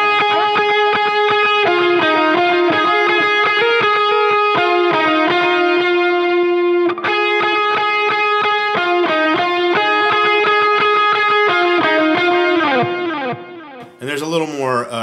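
Distorted electric guitar lead played through a Line 6 Helix with a gain boost, sustained notes and chords ringing loudly with effects, ending in a brief squealing flourish.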